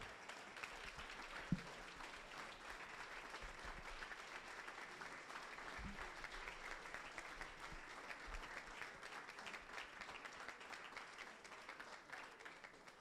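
An audience claps steadily in sustained applause as Senator Kamina Johnson-Smith, Jamaica's Minister of Foreign Affairs and Foreign Trade, is welcomed to the podium. The applause is faint and distant, with an even texture throughout.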